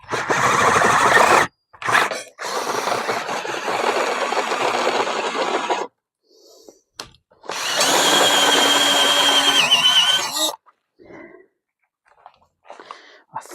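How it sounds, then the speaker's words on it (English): A power drill bores a hole during bicycle repairs in a cycling workshop, loud whining bursts starting and stopping several times with short pauses between, close to the microphone and with no talk over it. "let's put it on drill"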